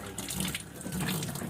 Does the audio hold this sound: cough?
no